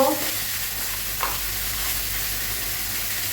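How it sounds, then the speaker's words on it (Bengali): Boiled churamukhi frying in a pan, a close, steady sizzle and hiss with a short stir or clatter at the start and another just past a second, no talk. "ছড়াগুলি ভেজে নিচ্ছি"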